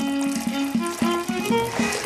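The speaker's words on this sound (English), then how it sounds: "Next, yeast, water and salt are added." Water poured into flour for Victorian-style bread dough, a steady close pour with a few soft splashes and gurgles, no talking.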